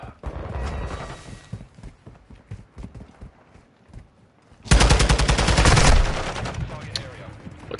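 Dense burst of automatic gunfire in Call of Duty Modern Warfare 2 multiplayer, loud and sustained for about a second, after stretches of quieter game noise and scattered shots, with someone talking over the earlier part.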